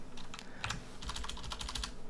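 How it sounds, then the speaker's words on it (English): A computer keyboard is typed on in quick, close bursts of clicking keys while entering a URL in a browser, fairly loud over a soft background hum, with no talking. "go up into my URL and type localhost"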